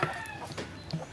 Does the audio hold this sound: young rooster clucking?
yes